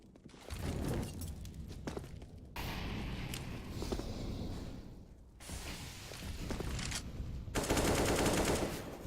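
Counter-Strike match on the Overpass map, with rapid bursts of gunfire and thudding grenade blasts mixed with footsteps and clatter, recurring at moderate level through the stretch.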